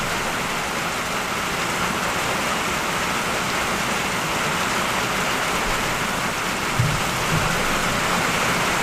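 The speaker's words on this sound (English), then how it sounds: "Oh, the rain is so loud." Loud rain pouring during a hurricane, a dense, constant hiss and roar of downpour filling the whole stretch, with a couple of faint low thumps near the end and no talking.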